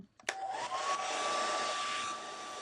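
A hair dryer blows on a fresh Gelli plate art card print, switching on with a click and then running as a steady close, loud whoosh with a thin whine that eases slightly near the end.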